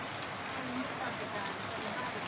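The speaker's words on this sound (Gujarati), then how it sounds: "તો સાંભેલા ને ધારે વરસાદ પડે છે" Torrential rain pours down in a steady, close, dense hiss that holds unbroken the whole time.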